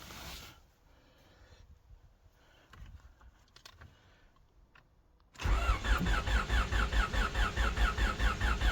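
A Honda D16 engine turns over with soft, irregular cranking at first, then catches and starts, settling into a loud, close, rhythmic running idle with no talking.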